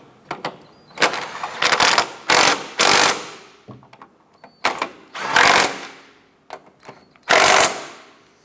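A ratchet snugs down the strut nuts on a front strut assembly of a 2004-2008 Acura TL, giving several close, loud bursts of rapid clicking separated by short pauses.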